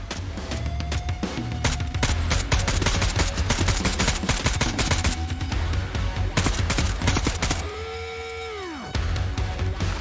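Rapid automatic gunfire and dense volleys of shots from a Tarkov-style extraction shooter video game, loud and continuous for most of the stretch, with a rising electronic whine near the end before a short pause and more shots.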